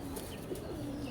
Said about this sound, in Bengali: এই যে কবুতরটা দেখেন